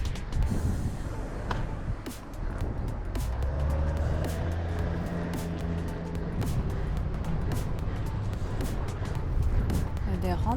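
Steady road traffic on a Japanese road during the Hakone Ekiden, heard from a bicycle, with a yellow garbage truck passing. A continuous close engine rumble and tire noise runs throughout, with a voice talking over it.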